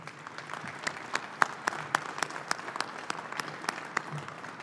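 A banquet audience at the 2017 Gagliardi Trophy presentation in Salem, Virginia, gives sustained applause, a thin bed of steady clapping with a few louder, sharper claps standing out near the front.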